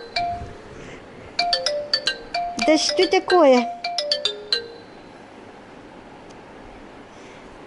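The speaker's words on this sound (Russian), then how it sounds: "Чей-то телефон. Неужели мой?" A mobile phone ringtone plays a bright electronic melody in short bursts for a few seconds in a quiet room, fairly close, before stopping, with someone briefly speaking over the end.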